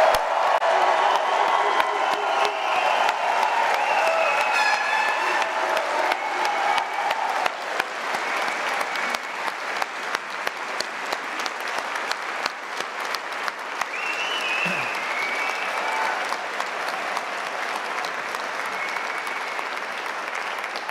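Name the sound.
audience applause and cheering for graduates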